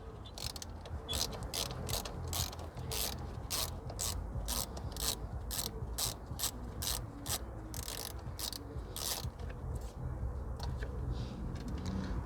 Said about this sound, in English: These are 10mm bolts, or 10mm head on the bolt, so you need your 10mm wrench.